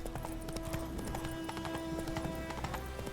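Rapid, steady clip-clop of the horse Roach's hooves galloping in The Witcher 3, running continuously at close range over a constant game ambience, with a faint whinny and no talk.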